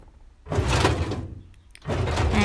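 A drawer-opening sound effect from the Kinemaster SFX store plays as two broadband sliding rumbles, each about a second long, separated by a short pause.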